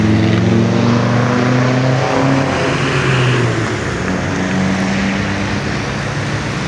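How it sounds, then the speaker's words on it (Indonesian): Steady road traffic rolls across the Kelok 9 flyover at night, a loud continuous engine drone with vehicles passing close by. "Kondisi lalu lintas hari ini sudah lancar teman-teman"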